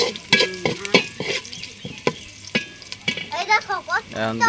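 Potatoes frying in a pan in a village home kitchen, a steady sizzle broken by sharp scraping stirs, with a rooster crowing and other background noises.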